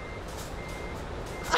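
Reversing beeps from a truck in Euro Truck Simulator 2, a steady repeating tone over a continuous low engine rumble, with a louder burst right at the end.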